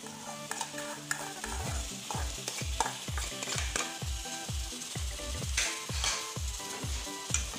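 Cooked pasta is stirred through browned garlic in a pan, with a steady oily sizzle under rhythmic scraping strokes of the utensil repeating about twice a second, close up.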